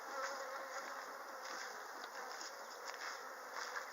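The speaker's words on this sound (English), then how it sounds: "there's a cadre of bees just around my head, orienting" Honey bees buzzing in a loose cloud around a beekeeper's head beside a hive, a faint continuous hum with individual bees swelling briefly louder as they fly near.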